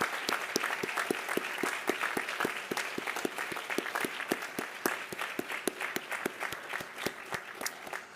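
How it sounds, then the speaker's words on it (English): Audience at a white coat ceremony breaks into sustained applause, a dense steady patter of many hands clapping together for the whole stretch, moderately distant in a large room with no talking over it. "a round of applause to everyone"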